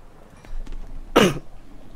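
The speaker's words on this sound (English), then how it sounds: "Oops, I coughed." A single short cough from a Minecraft player, loud and close, standing out against quiet game ambience with a few soft taps just before it.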